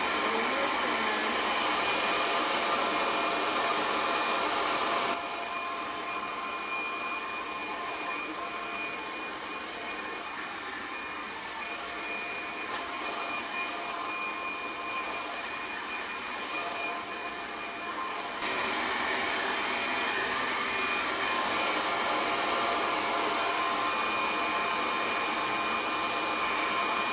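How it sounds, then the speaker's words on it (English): A hair dryer blows steadily on short pixie-cut hair, a loud continuous whooshing roar that softens for a stretch in the middle as airflow shifts, then returns to full strength. "So now that we're done blow drying"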